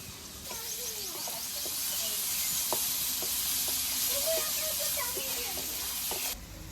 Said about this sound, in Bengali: পেঁয়াজের বেরেস্তাটা লাল লাল করে ভাজা হয়ে গেছে